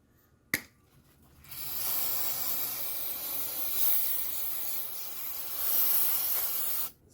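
An alcohol-based aerosol cleaner hisses in one long continuous spray onto the mass airflow sensor of an FJ Cruiser or 4Runner, starting after a sharp click and stopping abruptly, close to the microphone.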